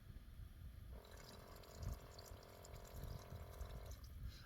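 A faucet runs inside a camper van for about three seconds, a steady stream of water with a hollow filling tone, beginning and ending abruptly over low background rumble.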